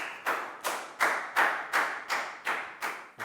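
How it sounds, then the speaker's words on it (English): A classroom of children claps in a steady, even rhythm, about eight crisp, loud claps spaced roughly a third of a second apart, with no voices over them. "Big round of applause for down"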